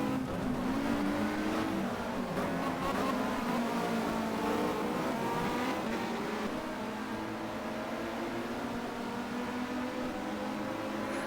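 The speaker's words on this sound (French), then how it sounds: "Mike Briggs qui va peut-être attaquer son coéquipier." Several touring car engines, including Volvos, roar and whine continuously, revving up and down as cars race past close by during a 1990 World Touring Car Championship race at Le Mans.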